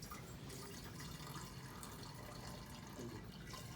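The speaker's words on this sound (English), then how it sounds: "step one, I'm going to add our luminol solution" Luminol solution is poured into a container, a faint steady trickle of liquid that runs continuously at low level with no voices.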